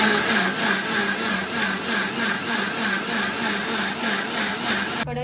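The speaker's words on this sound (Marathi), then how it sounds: "हिरवा मसाला, कांदा, हळद आणि चिंचेचं पाणी घालून हे मिश्रण आता आपण वाटून घेणार आहोत." Green masala, onion, turmeric and tamarind water ground together in an electric mixer-grinder for a Konkan fish curry, a steady loud whirring grind running continuously for about five seconds before cutting off abruptly.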